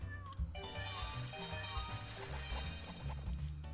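Cartoonish cat meows from the video game Doggie Dash repeat over busy game music and sound effects, with occasional crashes and thwacks mixed in.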